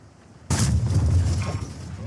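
A single heavy cannon-like boom from a Škoda T 56 heavy tank fires abruptly in a video game, followed by a rumbling decay.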